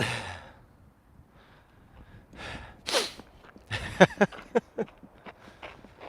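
A sharp sneeze near the start, followed by breathy sighs and sniffs, then a run of quick clicking taps.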